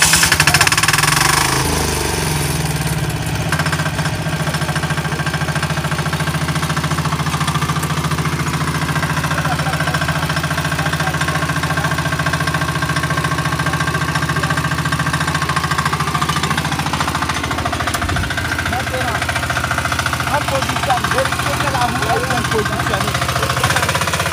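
A tiller used for ploughing fields runs steadily after starting, a loud, continuous mid-pitched engine drone with a knocking idle, while someone talks over it.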